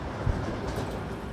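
A train rolls on rails on a route between Lviv and the war zones, a low, steady rumble with a soft thud near the start, moderately quiet and continuous.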